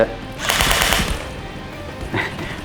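An Apexinno VR haptic gun fires in rapid mechanical clicking, a sustained automatic burst, fairly loud and close, followed by a couple of shorter bursts after a pause.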